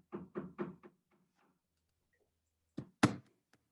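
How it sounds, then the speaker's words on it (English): Hammering from an upstairs neighbour: a quick run of four muffled thumps, a pause, then a couple of sharper, louder knocks, heard through the ceiling in an otherwise quiet room. "someone upstairs from me decides to start hammering"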